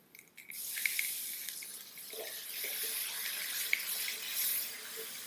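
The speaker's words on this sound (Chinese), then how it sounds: "然后加水" Water poured into a cooking pot with seasoned sauce for a zongzi filling, a steady close splashing rush with a few soft drips and clinks, no voices.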